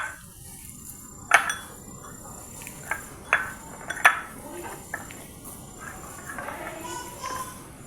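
Spices being worked into mashed potatoes in a bowl for stuffed puri, with a handful of sharp spoon-and-bowl clinks spread irregularly over a low, steady background, close and moderately loud.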